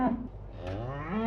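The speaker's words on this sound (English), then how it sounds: "cow" A cow lets out a single long, low moo that holds steady through the whole short stretch, close and loud.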